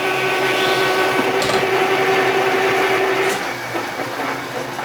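Metal lathe turning a workpiece with cutting oil, holding a steady mechanical whir with a high tonal whine and a few brief scrapes, loud and close, easing slightly near the end.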